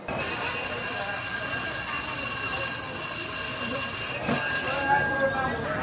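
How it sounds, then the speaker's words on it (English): A steady electronic ringing of a railway crossing warning bell in Hanoi, Vietnam, with a bright high tone, continuous throughout over background crowd noise and murmuring as a train approaches. "It's like a bell that rings when the train is coming."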